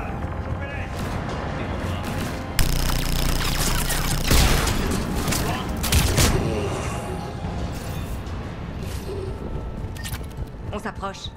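Cannons and gunfire during the assault on Omega in the video game Mass Effect 3, with loud booming blasts and crackling fusillades that keep going under speech.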